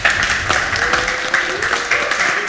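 Studio audience clapping and cheering for a rapper on a rap game show, loud and close with uneven bursts, a voice briefly audible through the noise.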